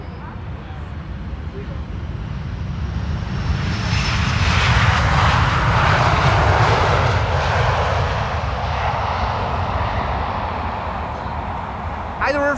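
An airliner lands at Amsterdam Schiphol Airport in sunny, crosswind conditions, without reverse thrust. Its loud, broad engine roar swells to a peak mid-pass, then slowly fades, with faint voices in the background.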